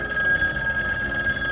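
A ship's telephone rings with a steady electronic trill, placing a call to the engine room before a steam-driven reciprocating cargo stripping pump is started; close and continuous, with no voices.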